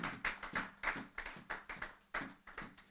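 A church congregation claps in rhythm, a series of about a dozen evenly spaced, crisp hand claps, fairly faint and without voices.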